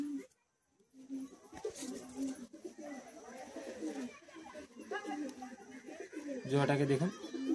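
Pigeons for sale coo repeatedly at close range, with one louder burst of cooing near the end, while someone talks over them throughout.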